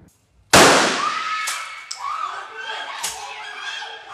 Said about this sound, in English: The bullets were blank, but the tension was real, heightened by the sound of the bullets so loud we actually had to wear these earplugs.